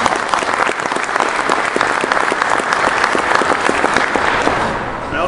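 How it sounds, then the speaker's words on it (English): Applause at an annual meeting, the crowd clapping briskly and steadily for several seconds before it thins out at the very end; a round for event sponsors, fairly loud and close. "We can just give them all a quick round of applause."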